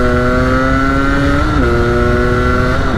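A 125cc supermoto motorcycle engine revs hard and close, holding a steady high-pitched whine that dips briefly mid-clip and then climbs again. No talk is heard over it.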